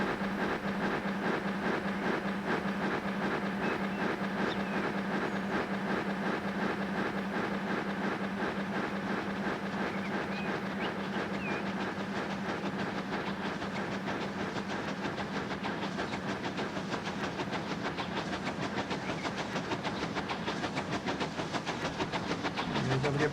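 A train runs steadily along rails in the simulation game Transport Fever 2 on a UK line, a continuous rolling rumble with a rapid rhythmic clatter and a faint hiss, constant in level throughout.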